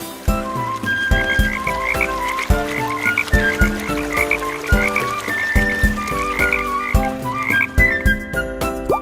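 Rhythmic cartoonish frog croaks repeat in a steady bouncing pattern over a musical backing in a Turkish children's song, close and loud.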